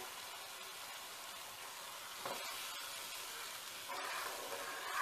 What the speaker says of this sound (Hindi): इसे हम चलाकर अच्छी तरह भून लेंगे